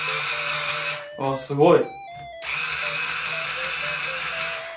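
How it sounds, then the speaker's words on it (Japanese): Guitar tuning pegs loosened with a string winder, a steady whirring, ratcheting drone that pauses briefly while a voice exclaims, then resumes and runs evenly to the end. "ではまずペグを緩めていきます。"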